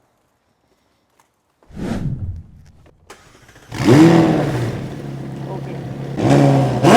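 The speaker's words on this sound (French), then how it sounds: "démarrer ton véhicule pour qu'on entende la ligne incroyable et qu'on entende vraiment toute la sonorité de cette magnifique McLaren" A McLaren 720S with a Novitec exhaust fires up with a loud burst, settles briefly, then roars through a long rev and a second sharp rev close by, with a short spoken word early on.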